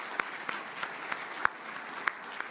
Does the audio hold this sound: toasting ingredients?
no